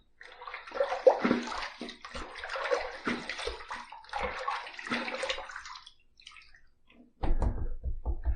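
Running water while shaving with an adjustable injector razor: a close, bubbling splash in bursts as hands rinse under the tap, briefly pausing before a louder, steadier gush of flow resumes.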